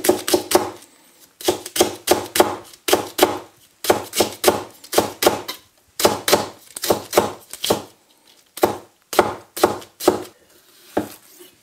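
Brisk knife chopping a tomato into strips on a cutting board, quick bursts of sharp taps separated by short pauses, close and clear with no talking.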